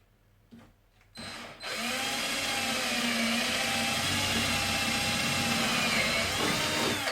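A power drill bores holes in a wall for a shelf bracket, starting with a few short taps and spurts before settling into a loud, steady whine that runs close up and unbroken to the end.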